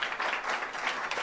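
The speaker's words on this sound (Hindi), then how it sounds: "हम सभी लोग ताली बजा के अनुमोदना" Audience at a Jain religious discourse with Sudha Sagar Ji Maharaj applauding in approval, a dense, steady burst of many hands clapping at once, fairly close and without talk.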